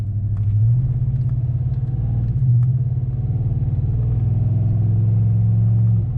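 A pickup truck engine rumbles low and steady, droning as it pulls along, with no voices.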